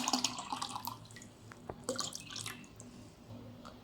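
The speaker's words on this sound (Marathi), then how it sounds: "कोथिंबीर, हिरवी मिरची आणि पुदिन्याची पेस्ट इथे मी तयार करून घेतली आहे. आता ती पाण्यात टाकून घेऊ." Green chilli, coriander and mint paste goes into water for spicy pani puri water, giving soft, close splashes and drips that fade into a faint wet trickle.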